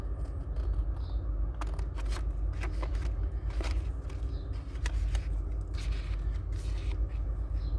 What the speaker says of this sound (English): I'm gonna use the bigger scissors, and I'm just gonna give this a wedge out.